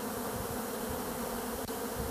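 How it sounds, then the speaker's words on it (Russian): A honeybee swarm buzzes at the hive, a dense, steady drone that fills the whole stretch close by, with no talk over it. "а сегодня пошел у меня рой"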